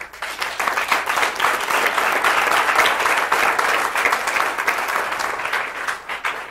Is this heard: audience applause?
yes